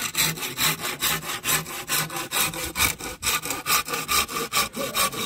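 A hand saw cuts through a bamboo stalk in quick regular back-and-forth strokes, each pass a crisp rasping burst, close up and steady with no talking.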